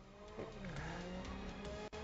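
Tires skid and squeal under a racing car's steady engine drone in the Grid Legends racing game, a continuous close screech lasting a couple of seconds.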